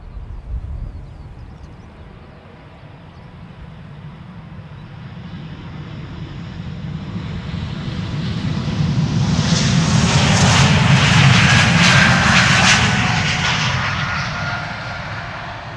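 Embraer E195-E2 jet bound for Birmingham at Schiphol Airport, its engines building from a low rumble into a loud, broad roar that peaks near the end and then starts to fade.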